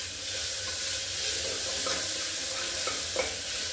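Ginger and garlic fry in a pan as they are stirred, giving a constant close sizzle with scraping stir strokes and no talking.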